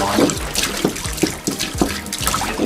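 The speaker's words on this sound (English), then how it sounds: "you have to pour the water in" Water poured into a toy cup while mixing a color-change bath fizz toy, a steady splashy liquid wash with soft clinks and short knocks, fairly close and moderately loud.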